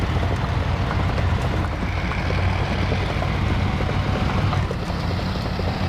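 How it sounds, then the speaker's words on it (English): A WAZ 853 truck in the off-road driving game SnowRunner grinds over large rocks, its engine droning loud and steady throughout with a dense, unbroken rumble. "This truck is struggling a little bit."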